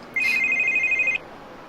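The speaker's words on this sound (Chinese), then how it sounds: "我接个电话。" A telephone rings once in a short electronic ringtone burst, clear and fairly close, in a quiet indoor setting with no talk.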